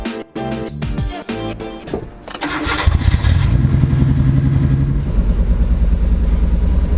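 A restored Nissan Skyline KGC10 Hakosuka engine cranks with a few uneven starter bursts, then catches and settles into a loud, close, steady idle.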